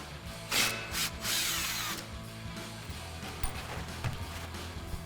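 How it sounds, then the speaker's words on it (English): An impact wrench with an 18mm socket removes the nut from a sway bar link on the factory front strut of a 2005-2010 Mustang, giving several loud rattling bursts followed by quieter handling noises. "we're gonna grab our impact and our 18mm socket and take that nut off"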